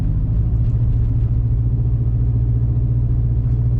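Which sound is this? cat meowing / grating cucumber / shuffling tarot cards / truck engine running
truck engine running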